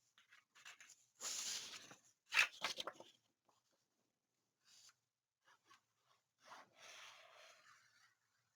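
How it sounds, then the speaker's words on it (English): Paper is burnished down onto a photo frame album, with several short, close scratchy rubbing strokes separated by quiet pauses. "burnish that down"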